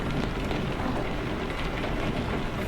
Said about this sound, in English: Rain still coming down.